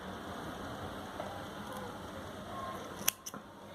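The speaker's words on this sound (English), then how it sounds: "Insert the hook between the stitches and snip off this yarn." Scissors snip through crochet yarn on a baby sleeping bag, one or two quick close clicks near the end over a steady soft background hiss.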